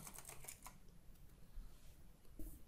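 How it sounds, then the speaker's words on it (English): Quiet keystrokes on a computer keyboard, a quick cluster of taps at the start and then a few faint scattered presses, heard close in a quiet room. "And at the search, just type Google."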